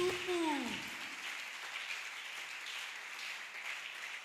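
A church congregation applauding the Lord Jesus during a preaching service, with steady, moderately distant clapping that carries on through the stretch after a brief spoken phrase at the start.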